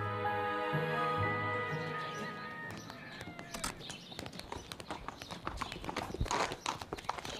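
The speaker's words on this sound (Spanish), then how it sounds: "¡Suelta el caballo, Pablo!" A horse's hooves clip-clop in a rhythmic series of sharp knocks that grow denser and louder as a sustained musical tone fades out, with no talking.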